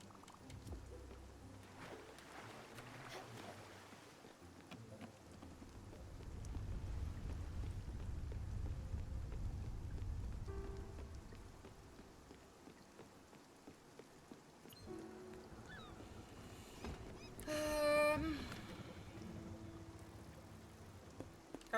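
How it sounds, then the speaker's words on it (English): Rain falls in the video game Spiritfarer, a soft, faint patter of drops on surfaces, swelling slightly midway, with brief chiming game sounds near the end and no voices. "Oh, this rain, will it ever stop?"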